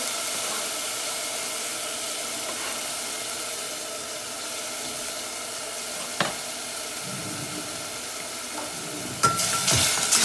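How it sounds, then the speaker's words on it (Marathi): Finely chopped onions fry in oil in a pot for a Goan clam curry, giving a steady, soft, even hiss with a few sharp clicks and a louder burst of sizzle at the end. "तेल घाता आनी हांव आतां पियाव घाता"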